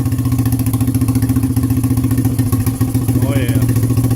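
A 1986 TRI-Z three-wheeler engine idles close by, a loud steady throbbing putter with an even pulsing rhythm for the whole stretch, a brief faint higher sound near the end.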